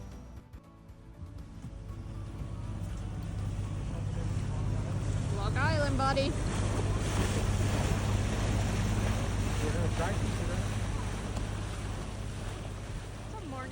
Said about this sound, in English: There was never enough wind to sail, so we ended up motoring the entire way.